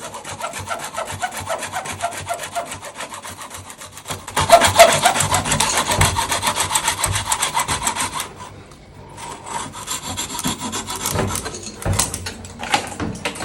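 A concealed bidet faucet's valve fitting being cut a short distance out from the wall with a saw, giving steady, rough back-and-forth strokes that are loud and close. There is a short pause before the cutting resumes.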